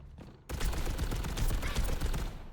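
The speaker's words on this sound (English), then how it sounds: "let me shoot at that one who's really far away" D.Va's baby cannon firing in Overwatch, a dense burst of rapid shots that starts abruptly and runs continuously as a loud rattling barrage for about two seconds.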